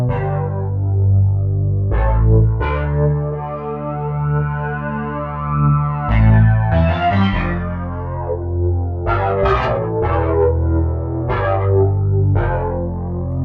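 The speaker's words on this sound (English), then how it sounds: "Harmonic filter, if you turn it on, so it takes harmonics out of it." A distorted synthesizer tone plays sustained notes whose harmonics are filtered and shifted, with sharp attacks and sweeping changes in timbre.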